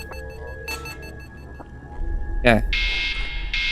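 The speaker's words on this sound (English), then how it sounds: "Oh, alarm." Alarm in the horror game Crawlspace: Insanity Remastered, a FNaF 2-style reimagining: a sharp rising electronic sweep followed by a loud, steady high-pitched buzzing tone, with ticking and a brief spoken word underneath.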